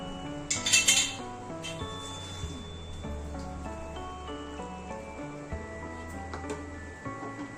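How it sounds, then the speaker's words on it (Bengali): A utensil scrapes and clinks in a cooking pot while kochu and pui shak greens are stirred, a louder clatter at first, then softer irregular knocks and scrapes. "মাঝে মধ্যে নাড়তে থাকবো।"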